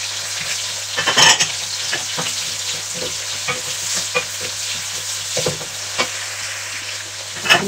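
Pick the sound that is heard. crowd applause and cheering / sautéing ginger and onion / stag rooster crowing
sautéing ginger and onion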